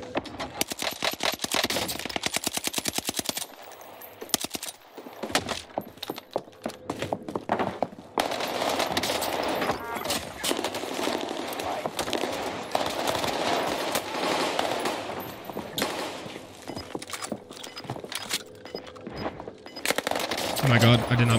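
The Armaguerra submachine gun fires in Call of Duty Warzone, with long rapid automatic bursts, brief pauses and more volleys over a battle soundscape, while a voice talks at times.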